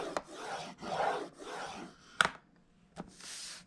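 Scoring tool dragging along paper on a scoreboard for a DIY Valentine's tower box, a series of soft scraping strokes with a few sharp clicks between them, close and quiet.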